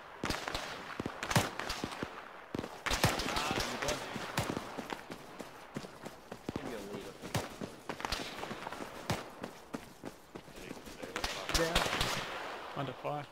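Gunfire in the military shooter Arma 3 during an infantry clearing operation in Falluja, with sharp repeated shots and bursts scattered irregularly across the clip, some near and loud, others more distant, amid a busy battlefield mix.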